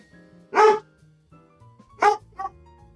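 A dog gives two sharp, fairly close barks about a second and a half apart, followed by a softer short yip, over a faint background hum.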